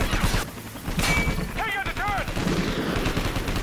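Gunfire in the shooter Call of Duty Ghosts, including a sniper rifle shot, with several sharp close bursts among battle noise while a voice talks over the action.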